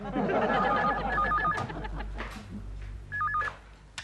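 A telephone rings in short warbling electronic bursts, two close together and then another after a pause, under a busy background of talk and laughter from a comedy scene.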